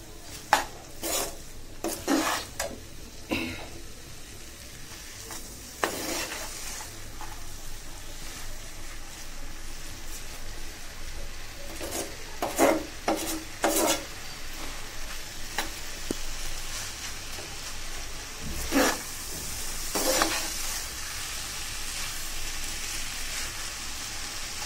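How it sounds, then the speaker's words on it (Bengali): Semai pulao made with Chittagong's famous Fakir Kabira vermicelli is stirred in a pan after salt and sugar go in, with a steady low sizzle and repeated scraping strokes at close range, some louder bursts, and no talking. "স্বাদ মতো লবণ, আর একটু লবণ এবং চিনি দিয়ে নাড়িয়ে নিচ্ছি"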